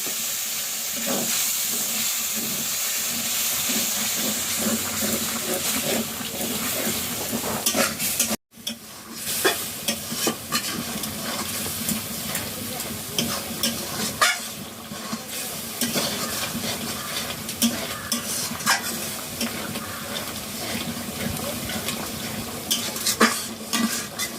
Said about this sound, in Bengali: এবার আমি গরম জল ঢেলে নিচ্ছি মশলা কষানোর জন্য।